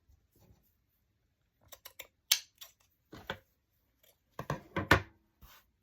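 Scissors snipping into fabric for a lace cluster craft, a few quiet, separate cuts and rustles with pauses between them, close and faint.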